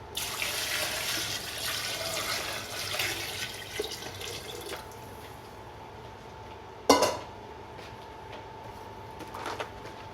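Water from a tap runs steadily into a pot holding washed beef bones and onion for beef nilaga soup, with faint kitchen clatter and a sharp clank of pot or utensil partway through.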